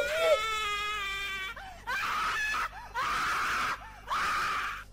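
A high, wavering scream from the Slendytubbies Anniversary Edition horror game, followed by three further sustained shrieking cries separated by short pauses. The screams are loud and close, with no talk over them.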